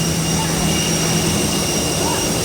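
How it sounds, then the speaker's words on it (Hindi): Jet engine roaring beside an IndiGo plane at an airport boarding area, a loud steady broadband whine and rush that stays constant throughout. "आपको तेज आवाज़ सुनाई देगा जो कि विमान का होगा।"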